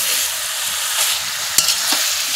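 Chicken meat fries in spiced oil in a pan while being stirred, a steady near sizzle with a sharp utensil knock partway through and a couple of scraping strokes.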